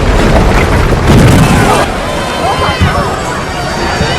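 A powerful explosion at power line towers on a 33-kilovolt line, a loud broadband boom and burst with a sustained roaring rumble and debris noise that stays loud throughout.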